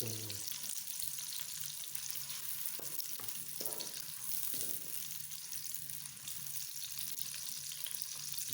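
Chopped onion frying in oil until brown gives a soft, steady hiss that continues throughout, quiet and close, with a few faint low clicks and no voices.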